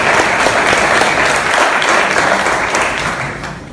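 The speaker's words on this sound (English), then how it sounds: "Let's give Chief Seymour another round of applause." An audience claps loudly and steadily at an active shooter training session, a dense sustained ovation that tapers off slightly toward the end.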